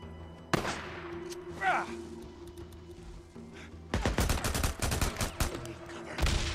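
Enemy sniper fire in a video game: a single sharp shot early on, a lull, then a dense, loud volley of overlapping gunshots and cracks lasting several seconds, close by.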